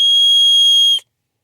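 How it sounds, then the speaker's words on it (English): A Tactile Pen multi-tool's built-in whistle blown once, a steady piercing shrill tone about a second long that cuts off abruptly, loud and close with nothing else around it. "It's more of a dog whistle"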